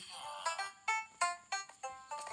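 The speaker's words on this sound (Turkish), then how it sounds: "Gitar çalıyor." Six bright, ringing guitar notes from Minecraft with a farm mod installed, each plucked tone sounding clearly and fading away in an even, unhurried sequence.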